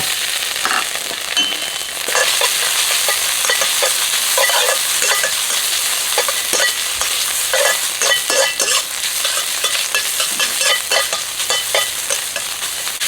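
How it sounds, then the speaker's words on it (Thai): Stir-frying in a wok gives a loud, continuous sizzle close by, with repeated metal scraping and tossing strokes throughout. "ผัดให้เขาเนี่ยหอมกลิ่นกระทะก่อนนะครับ"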